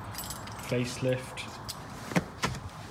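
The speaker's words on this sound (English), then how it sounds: "Stick the keys in." Car keys for a 2014 Mercedes E350 W212 give a quick, faint metallic jangle in two short bursts, with someone speaking briefly nearby.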